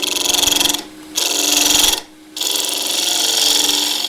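Spindle gouge cutting into the end grain of a wooden blank spinning on a lathe, making a screw chuck: a steady high-pitched whirring scrape in three long passes, broken by two short pauses, close and loud.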